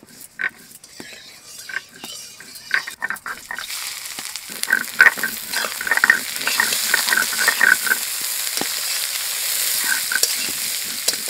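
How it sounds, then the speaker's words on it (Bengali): Onions sizzle and fry in a hot wok while being stirred, with scraping utensil clicks and crackling that build after a quieter start, preparing rohu fish kalia; a steady, close sizzle with no talking. "কালিয়া করার জন্য প্রথমে কড়া পেঁয়াজ বাজিয়ে নেব"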